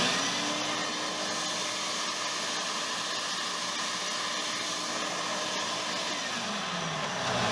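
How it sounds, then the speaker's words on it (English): A shop vacuum runs from a DEWALT portable power station, a steady, loud, broadband whoosh with a faint motor whine held throughout, no voices. "Let's move on to the shop vac."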